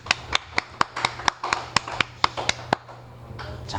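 A small group claps in a classroom, about a dozen sharp, fairly even claps over a few seconds before fading to quiet room tone.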